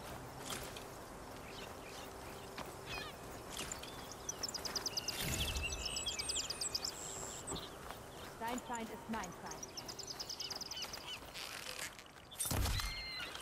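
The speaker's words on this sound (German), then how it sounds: "Uh, eine Möwe." Seagull calls ring out in Horizon Forbidden West, a few clear cries set over game ambience and background speech, with occasional thumps and music-like tones.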